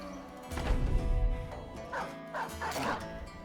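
A dog barks in the medieval strategy game Battle Brothers: Reforged, giving a few close, yelping barks and whimpers in quick succession over a faint game backdrop.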